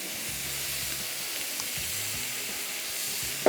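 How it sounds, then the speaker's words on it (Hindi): Minced meat sizzles steadily in a hot pan, a continuous close hiss of frying with faint low clatters from stirring underneath. "कीमे को हम थोड़ा थोड़ा फ्राई करते जाएंगे साथ साथ"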